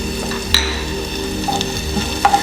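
Shallots with a pinch of turmeric sautéing in a pan, a soft sizzle under a few brief spoon-stirring clicks and scrapes, close and moderately loud.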